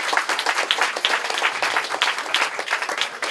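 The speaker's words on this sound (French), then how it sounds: "je voudrais d'abord qu'on l'applaudisse une nouvelle fois très fort" Audience applause at a country music awards ceremony in France, lively overlapping claps with distinct individual hand strikes, fairly close and continuous.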